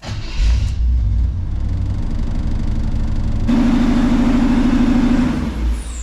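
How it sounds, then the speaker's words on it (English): A Chevrolet squarebody truck engine idles high with a steady, loud rumble, and partway through the pitch lifts into a stronger droning tone, as if shifted into gear, then holds to the end. "Why is it idling so high?"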